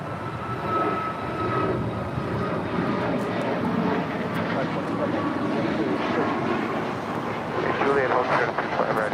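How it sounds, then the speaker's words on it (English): An Air Canada Boeing 737 MAX 8 takes off at LAX, a sustained, heavy jet engine roar that holds steady and swells slightly toward the end, with a voice talking over it. "That was Air Canada 792 departing to Toronto on a MAX 8."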